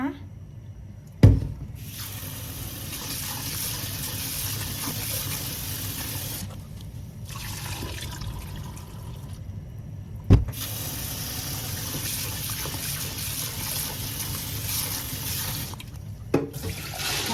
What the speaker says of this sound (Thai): ให้เราเทน้ำทิ้งแล้วก็ล้างอีกสัก2-3น้ำให้น้ำใสสะอาดดีเลยนะคะ